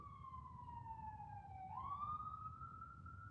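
An ambulance siren passes outside, faint and distant, a single wailing tone that slides slowly down and then sweeps back up over a low background hum.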